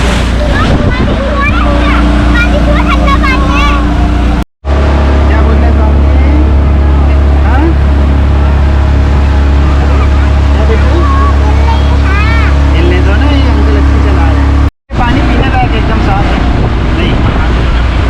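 Motorboat ride on a river at Orchha, with a steady low engine drone and wind rushing throughout, water noise beneath, and people talking and calling over the boat.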